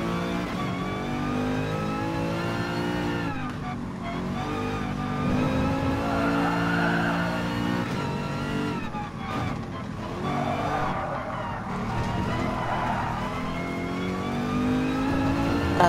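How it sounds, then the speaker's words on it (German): A Mercedes race car in Gran Turismo Sport revs and accelerates through gear changes, its engine whine rising and falling steadily, with brief tire squeals on corners, close and continuous for the whole stretch. "Ihr genießt jetzt einfach die Fahrt mit dem Mercedes"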